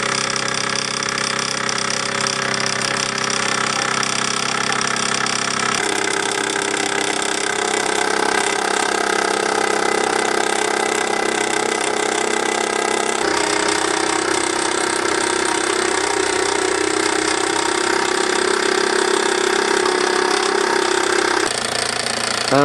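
A Bowman M175 toy steam engine runs in live steam driving a workshop, giving a steady, loud mechanical chatter with a rapid even beat that shifts slightly in tone a few times.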